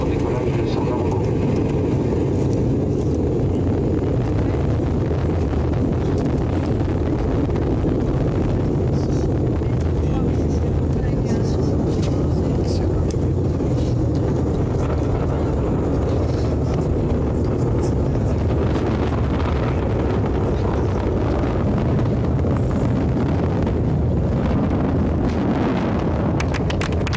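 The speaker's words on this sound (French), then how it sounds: "3, 2, 1, top. Allumage. Décollage." Rocket ignition and liftoff, a dense sustained roar with rumbling wind-like buffeting that grows rougher and louder toward the end, with voices talking over it.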